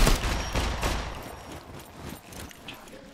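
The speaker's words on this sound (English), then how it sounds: "Oh shit, I'm being shot." Rapid bursts of gunfire in the video game Scum, loud and dense at first then tapering into scattered shots over a few seconds, with no voices.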